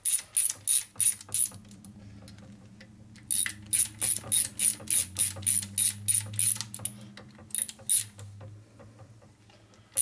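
A hand ratchet snugs bolts on a big-bore Harley-Davidson shovelhead engine, giving bursts of rapid, crisp clicking close by, with short pauses between runs of strokes and a low hum underneath.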